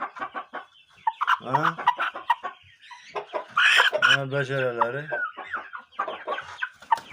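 A three-month-old grey Shamo rooster clucks and gives drawn-out, throaty calls close by, two longer vocal bursts standing out, while someone talks around and over them.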